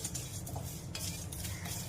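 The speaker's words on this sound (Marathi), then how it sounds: "आणि आता हे छान कोरडे परतून घेते" Misal masala spices, including poppy seeds, dry roasting in a pan while a spoon stirs and scrapes them in a steady, close scratching rattle, with no talking.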